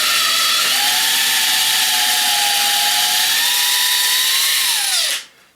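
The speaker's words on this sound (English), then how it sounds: "to drill down through our hole and into our shelf, giving us a 1/4-inch hole" A power drill bores a 1/4-inch hole down into a wooden shelf, its steady motor whine running loud and close for about five seconds before winding down and stopping.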